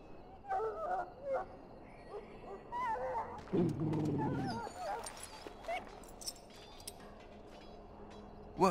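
A dog in a video game whimpers and yips in short, plaintive bursts over soft background game sound, with one stronger, louder stretch midway; no one speaks.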